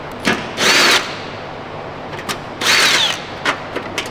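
A power tool whirs in short bursts as it loosens bolts on an old OBS Chevy truck, two longer runs with brief blips between, loud and close, with no talk.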